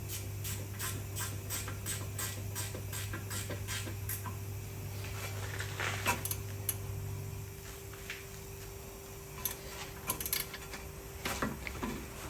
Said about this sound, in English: We're going to use a ratchet spanner on this one, just for ease of access.